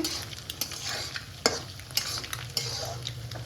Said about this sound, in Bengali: এবার এটাকে মানে একদম একটু ঝুড়ো ঝুড়ো করে ভেজে নিতে হবে।